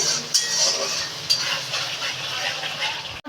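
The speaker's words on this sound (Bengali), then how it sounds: "মশলাটাকে এখন ভালো করে ভেজে নিতে হবে" Spice paste frying in a pan for a paneer and cauliflower dish, a steady soft sizzle with a few clinks of a spoon stirring against the pan.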